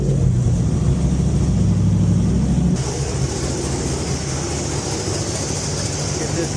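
An LS-swapped Hyundai Genesis Coupe engine fires up and runs with a loud, steady roar and a rumbling low drone, the tone shifting as it settles into a smoother idle partway through.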